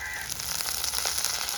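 Onions and curry leaves fry in hot oil while preparing kurma to serve with puri, giving a brief, steady, close sizzle.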